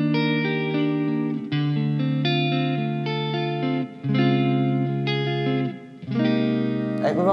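An electric guitar on a clean tone through a Valeton GP-200JR into an analog head amp and UK cabinet rings out in loud, sustained chords and notes, with a few brief breaks between phrases.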